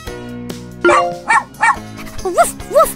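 Short cartoon puppy barks from the Super Why puppy day care game, several bright yips in quick succession over background music, close and loud.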